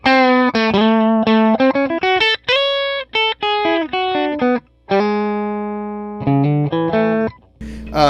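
Stratocaster on the bridge pickup played through a Tweed Deluxe 5e3 amp with Dumble-style mods, a driven electric guitar line of quick picked notes and held bends, bright and slightly gritty, loud and up close with no talking.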